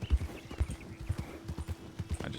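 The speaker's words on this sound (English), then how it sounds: "I just heard a horse somewhere over there." Horse hooves clip-clop at a steady walking rhythm in a Red Dead roleplay game. The footfalls are moderately distant and faint against a low steady hum.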